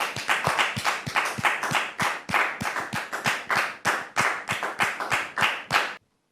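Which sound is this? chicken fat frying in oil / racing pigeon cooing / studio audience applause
studio audience applause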